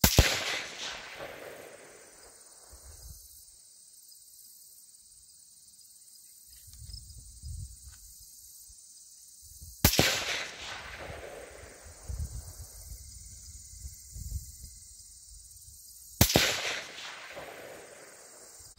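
A Foxtrot Mike 223 Wylde rifle fires Norma Tactical 223 ammunition outdoors, three sharp, loud shots spaced several seconds apart, each with a ringing decay, between quiet stretches of faint rustling.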